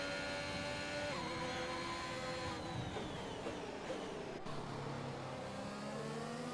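Ferrari Formula 1 car engine in a racing video game at the Bahrain Grand Prix, a loud continuous high-pitched whine with rising and falling revs and gear shifts, heard alone without talk.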